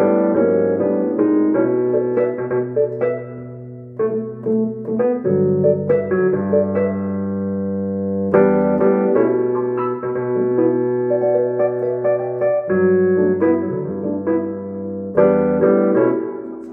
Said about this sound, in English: It's like a funky electric piano that it's got there.